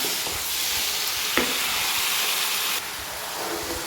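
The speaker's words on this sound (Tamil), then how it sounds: "ஒரு 2 மினிட்ஸ் இப்படி வதக்கினா போதும்." Capsicum and onion sautéing in a pan for chilli parotta: a loud, continuous sizzle with a few brief scraping stirs cutting in, close and steady throughout.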